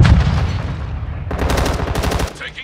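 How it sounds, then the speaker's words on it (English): Sustained automatic gunfire in a Call of Duty: Modern Warfare II firefight, dense rapid bursts rattling loudly and close, thinning near the end. "Taking effective fire!"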